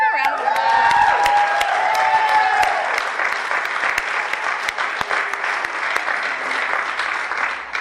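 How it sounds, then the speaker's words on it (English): A conference crowd of committee members and attendees breaks into loud, sustained applause with scattered cheers, the clapping filling the room and steady from start to finish. "Can we give them a round of applause?"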